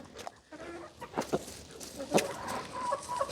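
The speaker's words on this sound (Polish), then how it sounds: "Już idzie kogut drugi." A rooster clucks in short bursts, with a few sharper calls scattered among quieter background sounds and no talking.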